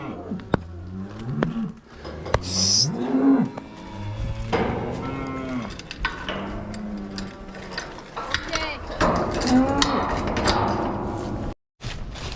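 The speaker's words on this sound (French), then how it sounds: "on a le temps de ramener les vaches au champ." Dairy cows moo repeatedly while being moved back to the field, several long drawn-out calls close by, with clattering and scattered sharp knocks around them.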